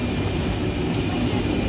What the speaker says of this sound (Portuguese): é o comboio, o trem que vai para